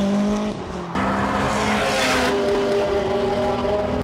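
A tuned Stage 5 Plus 2.0 TFSI MK3 car roars loud and close as it accelerates, with a brief drop in engine note before the revs climb again under a steady, strong drone.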